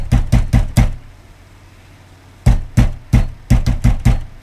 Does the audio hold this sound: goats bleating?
no